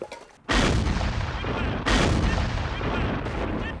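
Artillery and rifle fire from a Civil War battle as Confederate troops advance near Winchester, a loud sustained roar with two heavy booming onsets and continuous crackling gunfire throughout.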